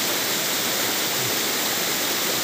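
Waterfall at Rairangpur roaring with a steady, dense, loud rush of falling water that fills the whole soundscape, with no voices.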